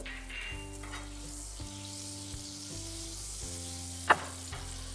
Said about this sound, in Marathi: तेल गरम झालं आहे आपलं, कारण की पॅन ऑलरेडी मी गॅसवर ठेवला होता। यामध्ये थोडंसं बटर